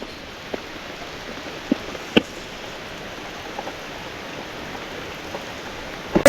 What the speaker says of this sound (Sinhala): වහිනවා දැන් පොඩ්ඩක්